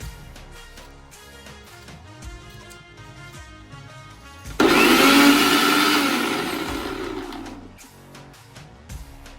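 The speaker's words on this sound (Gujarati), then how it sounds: "હવે આપણે ટામેટાની પ્યુરી બનાવશું" A kitchen blender whirs loudly for a few seconds as tomatoes are pureed for a winter tuver totha dish, starting abruptly and then fading as it winds down, with quieter kitchen sounds before and after.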